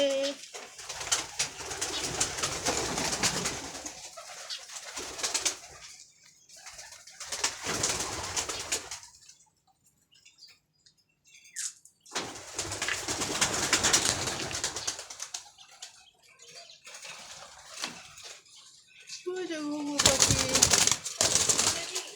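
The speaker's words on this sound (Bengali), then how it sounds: "দেখছো কবুতর কি সুন্দর তারপরে ঘুঘু পাখি দেখছো" Pigeons coo in soft, repeated bursts close by, separated by brief quiet gaps, with some faint rustling between calls.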